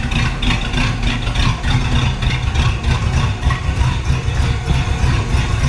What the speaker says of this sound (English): It sounds like it might be misfiring a little bit.